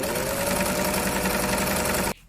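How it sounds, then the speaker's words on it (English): A sewing machine stitching a homemade fabric camera strap runs in a steady, fast whirring chatter, close and loud, then stops abruptly near the end. "So now guys, we're going to sew it"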